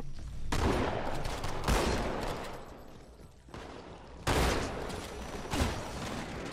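Shotgun blasts in Halo 2 during a Flood fight, heavy booming bursts in two long volleys separated by a brief lull, loud and close with dense rumbling tails.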